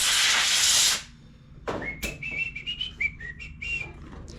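Compressed air blasts a gasket off a Honda HRR216 mower part in a loud, close, broadband hiss lasting about a second, then cuts off, after which faint chirpy whistling sounds continue in the background.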